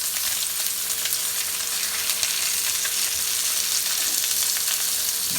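Salmon fries in a pan with a steady, close sizzling hiss and scattered pops, continuous and fairly loud, with a faint steady hum underneath and no talk.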